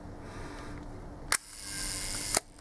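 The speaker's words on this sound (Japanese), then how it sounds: "シャッターは、1分の1の低速シャッターからチェックしていきます。" A 1954 Leica M3 double-stroke rangefinder camera, serviced, fires its shutter at the 1-second slow speed. Two crisp, close mechanical clicks sit about a second apart over a quiet room.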